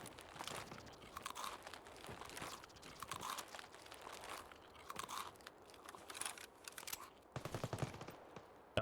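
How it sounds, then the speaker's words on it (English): Sporadic gunfire in the shooter game Escape From Tarkov on the Customs map, mostly distant bursts and single shots scattered across the clip, with one louder cluster near the end. "Oh, there's already shooting."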